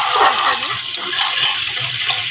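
Two large onions hitting hot oil in a pan with melted sugar and whole spices, giving a steady, loud, broad hiss close by with no talking.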